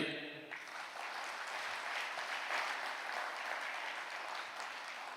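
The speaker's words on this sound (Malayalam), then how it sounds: "ഒന്ന് കൈയടിച്ച്" An audience at a Catholic preaching session led by Fr George Panackal breaks into sustained applause, a dense wash of clapping that starts abruptly and carries on evenly, sounding distant and faint.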